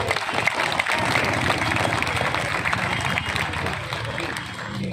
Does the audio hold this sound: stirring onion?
no